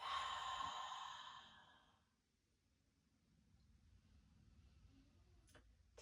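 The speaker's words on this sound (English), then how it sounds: "Exhale, open mouth, let it all out." A long, breathy open-mouth exhale during a yoga breathing exercise, heard close and fairly loud for about two seconds, then fading into quiet room tone with a faint click near the end.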